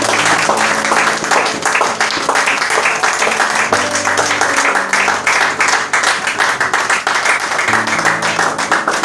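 A church congregation applauds and cheers during a sermon, a dense, sustained wash of clapping with voices and music mixed in, steady and loud throughout.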